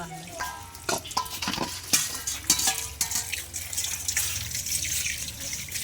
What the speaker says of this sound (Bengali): আর তোমরা তো জানো সকলেই মূলা শাকটা একটু ভালো করে ধুতে হয়, নইলে শাকে মাটি লেগে থাকে